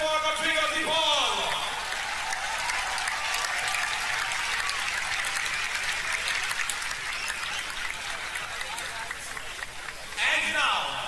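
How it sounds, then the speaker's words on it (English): Large crowd at a stadium event in Mumbai applauding and cheering in a sustained wash of clapping, with an announcer's voice over it at the start and end. "Big round of applause, ladies and gentlemen"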